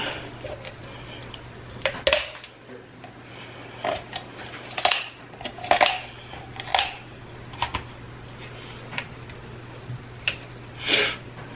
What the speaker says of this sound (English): So all I'm going to do is just cut its backbone out.